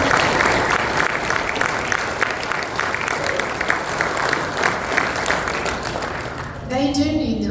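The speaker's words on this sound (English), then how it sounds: "We should give them a round of applause." Audience at a county Republican club meeting applauding for teachers, a steady wash of clapping from a crowd for about seven seconds before it cuts off, with a voice briefly audible at the end.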